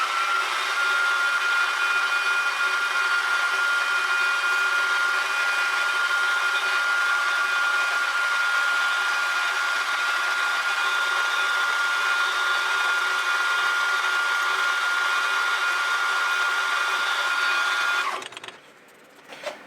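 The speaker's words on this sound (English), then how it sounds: "I've drilled through to 5mm now on a 6BA" A small drill, probably on a milling machine, bores a 5mm hole into a 6BA miniature petrol engine part. It gives a steady, close, high whine that holds for about eighteen seconds before spinning down and going quiet.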